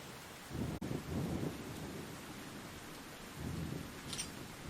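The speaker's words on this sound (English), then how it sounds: "the rain is too loud for me to hear him scream" Steady rain hisses with a low rumble of thunder rolling underneath, a sharp crack near the start, fairly quiet and without voices; video game audio.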